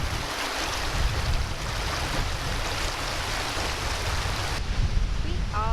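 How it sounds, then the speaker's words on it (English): A waterfall in Scotland roars as a steady, dense broadband rush close by, even in level and unbroken throughout, with a faint voice briefly under it near the end. "We are by a waterfall."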